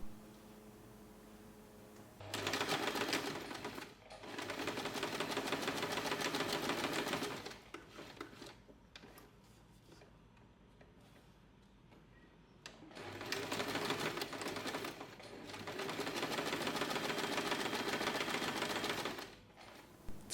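A sewing machine stitches a small fabric pouch in two long, fast bursts of rapid whirring, each about five seconds, separated by a quiet pause, close and clear.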